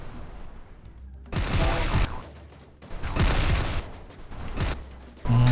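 Cars exploding one after another following a grenade in the Dude Theft Wars video game, three long loud rumbling bursts of blasts and crackling separated by brief quieter gaps, with no talking.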